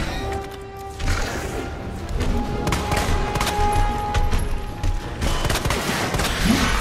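Rapid handgun fire from the Matilda pistol in the Resident Evil 2 game, a string of sharp close shots in quick bursts across the clip.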